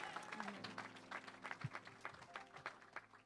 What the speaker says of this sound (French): May we applaud for the word of God.